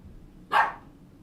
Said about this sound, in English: Sorry, my dog is crazy.